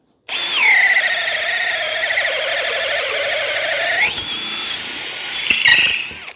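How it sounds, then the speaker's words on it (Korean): Makita DDF481 cordless drill boring a hole into wood, a high motor whine that starts abruptly, holds steady with a grinding tone for about four seconds, drops off, then gives a brief final burst. "이 제품 같은 경우는 지금 DDF481이라는 모델인데, 이렇게 목재용 나무 드릴로 뚫는 작업을 많이 하시는 분들이"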